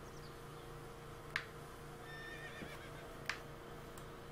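A horse neighs in the video game The Legend of Zelda: Breath of the Wild, two short whinnies roughly two seconds apart over a steady game ambience and music bed.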